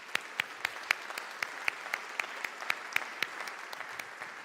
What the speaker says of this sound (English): I would like to ask you for an applause for these participations also